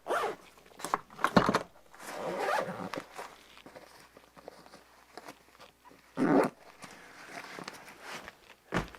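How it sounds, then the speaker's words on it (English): A briefcase zipper is pulled in a few short, rasping bursts, with pauses and light handling noises between them, close by and fairly quiet. "And if I can get the zipper to cooperate."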